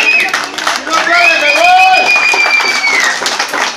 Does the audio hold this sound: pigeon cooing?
no